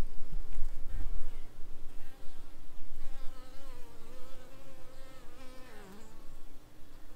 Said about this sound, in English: So there's bees coming and going